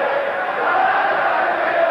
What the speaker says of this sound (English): Crowd in the background exalting Jean-Claude Bouttier on.